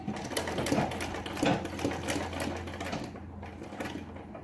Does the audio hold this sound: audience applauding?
no